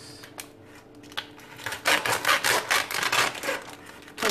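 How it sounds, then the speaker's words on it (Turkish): Knife blade sawing and scraping through a food package while preparing trileçe, a series of rough rasping strokes that grow louder and denser toward the end, close by with no talking. "Paketi kesiyorum."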